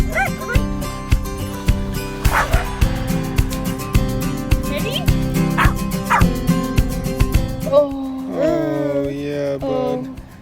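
Several dogs at a large mountain dog park bark loudly and repeatedly in close, uneven bursts, with yips and a whimper mixed in and a whiny howl-like cry near the end.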